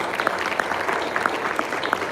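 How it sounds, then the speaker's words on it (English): Audience applause at a live awards ceremony, a steady wash of many hands clapping at moderate level with scattered sharper claps standing out, sustained throughout. "please, you can give that a round of applause for our program"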